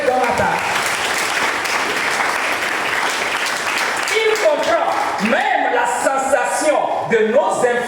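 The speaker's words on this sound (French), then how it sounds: "Acclame Jésus pour cela." A congregation at a Sunday church service applauds steadily in a dense, continuous clapping that runs through the clip, while a preacher's voice and singing rise over the applause toward the end.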